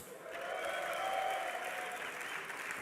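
A large esports arena audience at a DreamHack Winter 2012 semifinal cheers and applauds steadily for the Copenhagen Wolves, a dense, sustained roar of clapping and shouting that swells slightly mid-clip, with no talk over it.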